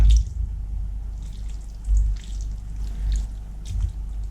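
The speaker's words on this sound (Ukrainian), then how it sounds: "Перемішую" Thick corn flour zatirka porridge is stirred in a pot, giving soft wet squishing and dripping sounds in slow, irregular bursts, close and quiet.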